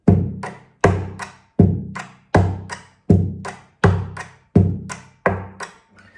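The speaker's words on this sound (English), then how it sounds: "you get this big snare plus kick sound" An acoustic guitar body slapped by a flat hand gives a steady beat of deep thumping hits, each a kick-like boom with a snare-like crack, about eight even strikes, close and loud with no talking.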